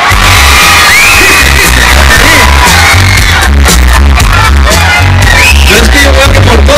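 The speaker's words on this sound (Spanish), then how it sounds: "Aplaudan con la pareja número 5." A loud crowd at a dance contest cheers, whoops and yells for a competing couple over booming music with a heavy, steady beat.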